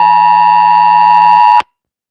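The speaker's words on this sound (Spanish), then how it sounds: "¿escucharon la alarma?" A phone emergency alert alarm sounding as one loud, steady, piercing electronic tone that holds for over a second and stops sharply, with nothing else audible.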